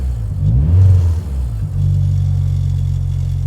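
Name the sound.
Toyota Celica GT4 ST185 engine revving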